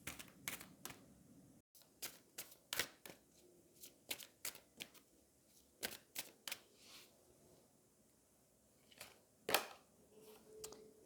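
Angel oracle cards are shuffled for a reading in a quiet room, giving a crisp, irregular series of close flicking snaps and riffles with short pauses between bursts and no talk.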